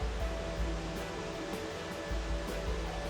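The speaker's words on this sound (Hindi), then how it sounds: "और ये पानी की आवाज़" Steady rushing water near a waterfall in Adelboden, Switzerland, a broad, continuous roar with no pauses.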